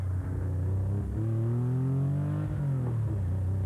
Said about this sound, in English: Coming down the straight, brake hard, come into the slalom, again for the turn.